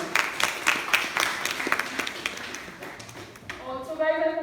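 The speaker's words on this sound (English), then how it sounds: "Let's welcome sir with huge round of applause, please." Audience applause at a college orientation day for law and business students, with dense clapping that tapers off, followed by a voice speaking at the end.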